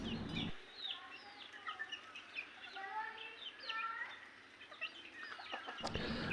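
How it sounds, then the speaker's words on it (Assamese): A chicken clucking and squawking while being caught by hand, repeated agitated calls at close range with rustling, and a voice heard faintly underneath. "মুৰ্গী ধৰা টেকনিকটো চাবচোন"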